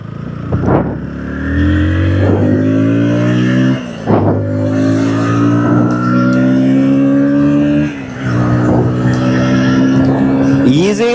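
A KTM Duke 160 motorcycle engine revs up through the gears, rising in pitch before each short drop at the shifts, loud and close, with repeated accelerate-and-shift cycles.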